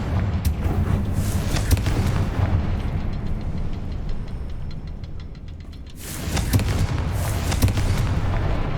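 Confringo spell blasts in Hogwarts Legacy burst out as heavy booming explosions: a dense rumbling stretch, a quieter lull, then another loud eruption of crackling impacts near the end.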